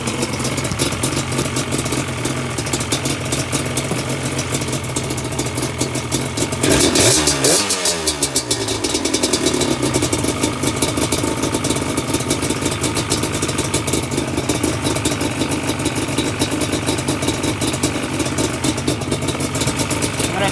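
Rebuilt 2005 Yamaha Banshee engine idling steadily just after its first start, a continuous close, loud rumble with a brief rise and fall in pitch midway.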